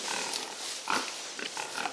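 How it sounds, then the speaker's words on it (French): Pigs grunting and oinking on a small farm, a steady close chorus of overlapping snorts and grunts with a louder squeal near the middle. "Donc, tous ces cochons"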